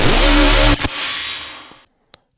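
A loud, gritty electronic bass roar with a buzzing, growling tone holds for under a second, then a noisy tail fades out, followed by two faint clicks.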